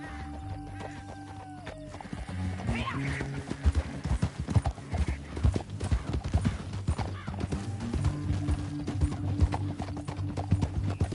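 Horse hooves gallop across rough canyon ground in Red Dead Redemption 2, a fast, loud clip-clop rhythm building after a brief whinny and continuing throughout, with faint music underneath.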